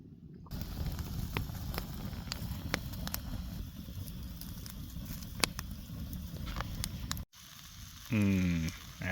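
Bacon cooks over an open campfire at a solo outdoor camp, giving a continuous close crackle and sizzle with scattered sharp pops. A brief cut is followed by a different, louder sound at the end.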